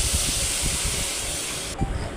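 Water poured into a hot pan of sautéed tomato, green chilli, salt, turmeric and chilli powder for a Tamil egg curry, giving a steady loud hiss and sizzle that drops in intensity near the end.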